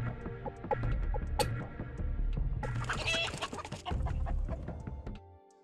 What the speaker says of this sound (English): If a player decides to cancel out of the Prestige mode at the last menu screen, a chicken noise can be heard.